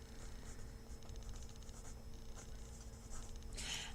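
Pencil sketching on paper, drawing the hind leg of an insect illustration: soft, quiet scratchy strokes in quick short bursts, close and faint against a low steady room hum, no voices.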